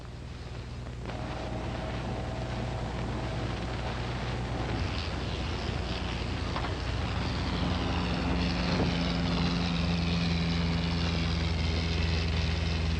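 Loud continuous helicopter engine roar with a steady whine that rises in pitch as it spins up for takeoff, sustained throughout with no pauses.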